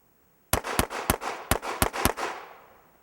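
Six sharp gunshots ring out at uneven intervals during a firearms shooting drill using cover, each loud crack trailing into a short echo that fades after the last shot.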